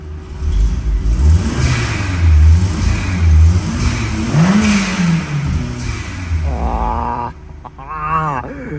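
A tuned Peugeot 309 engine revs and accelerates nearby, its low, throaty drone rising and falling in pitch. Toward the end a short whine cuts in and a few fluttering sounds follow.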